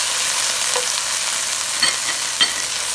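Cumin seeds sizzle in hot oil with garlic and ginger, a steady close frying hiss with a couple of brief louder crackles and pops.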